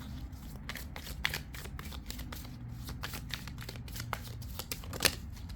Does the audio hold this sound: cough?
no